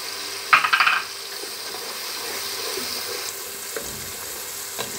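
Ginger garlic paste fries in a pan for chicken biryani. A short burst of clattering opens the clip, then a low, even sizzle carries on with a few faint knocks and no voices.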